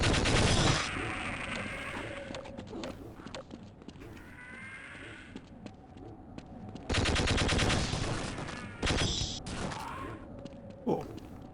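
Rapid gunfire from shooting in the video game Half-Life, loud bursts of shots at the start and again midway, with quieter game sounds between.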